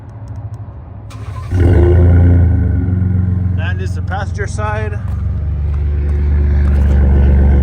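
A 2017 Ford F-150 Platinum EcoBoost with an exhaust leak starts up close by and settles into a loud, steady running rumble, with someone talking over the engine partway through.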